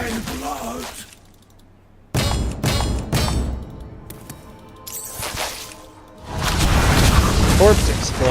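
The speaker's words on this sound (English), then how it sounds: "Corpse explosion." Corpse explosion effect in the Hearthstone video game: a burst of booming, squishing game sounds with splattery impacts, mixed with background music and spoken commentary.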